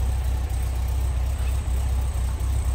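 A 1966 Volkswagen Beetle engine idles at the rear compartment with a steady low rumble and even, constant loudness, no talk over it.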